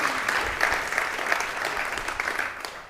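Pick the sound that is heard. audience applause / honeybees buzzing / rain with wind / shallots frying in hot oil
audience applause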